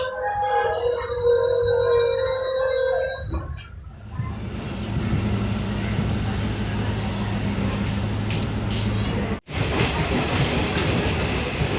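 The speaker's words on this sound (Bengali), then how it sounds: "আমাদের ট্রেন ছেড়ে চললো সেবক স্টেশন" A DEMU passenger train leaves Sevoke station in North Bengal: after a few seconds of tonal horn or engine whine, a steady rolling rumble with faint clattering of wheels builds and carries on, briefly cut by a sharp gap.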